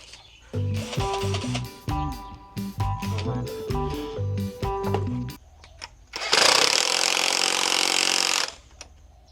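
A power drill bores into a metal part of a cassava planter, giving a string of short whining bursts that stop and start, then one longer, harsher, louder stretch of cutting, close by.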